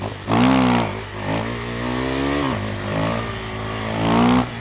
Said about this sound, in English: Then you rev the bike.